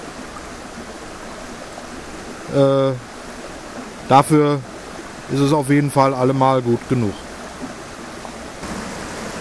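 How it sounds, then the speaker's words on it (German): A mountain brook flows steadily in the background, a constant soft rush of water at moderate distance, while someone speaks in German over it in several bursts. "Ich sitze hier schön am Bach."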